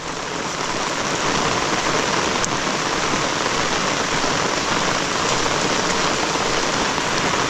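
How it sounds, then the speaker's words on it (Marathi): Heavy rain pours down steadily on a village lane, a dense, loud hiss of large drops striking surfaces with no pauses throughout. "पाचच मिनटं पाऊस लागला आहे पण गलीला पाणी बघा किती आहे"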